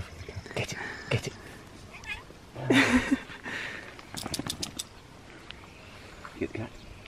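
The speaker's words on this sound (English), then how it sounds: "Get the cat. Get the cat." A cat meows several times in a rural setting at an off-grid cottage. The cries are short and scattered, with a louder one in the middle, among voices and bits of handling noise.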